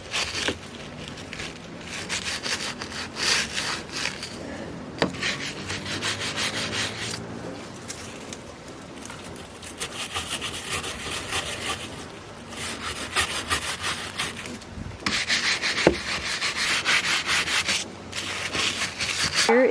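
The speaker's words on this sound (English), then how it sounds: "So my dad is gonna sand it" Steady back-and-forth sanding of a wooden house railing, a close, continuous rough scraping with rhythmic strokes and brief pauses throughout, no talking over it.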